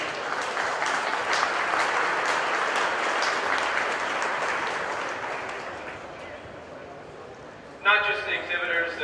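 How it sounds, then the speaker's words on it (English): An audience at the 2012 Wisconsin Championship heifer show applauds the junior exhibitors in the ring. The steady crowd clapping lasts about seven seconds and slowly fades, then a voice starts speaking. "how about a great round of applause for all these junior exhibitors?"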